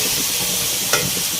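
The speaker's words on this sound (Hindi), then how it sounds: "अब इन सब चीज़ों को साथ में हम भूनेंगे।" Tomatoes and green chillies fry in a pan together, giving a steady close sizzle with faint stirring and one brief sharper hiss near the end.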